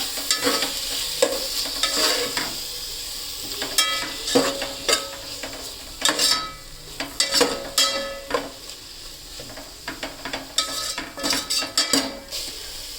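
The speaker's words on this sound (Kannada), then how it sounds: "ಈಗ ಟೊಮೆಟೊನ ಹಾಕೊಳ್ತಾ ಇದ್ದೀನಿ ಚೆನ್ನಾಗಿ ಫ್ರೈ ಮಾಡ್ಕೊಳ್ಳೋಣ" Tomatoes frying in a pan for chicken dum biryani, stirred with irregular scraping and clinking of a utensil against the pan over a constant hiss, close and with no voices.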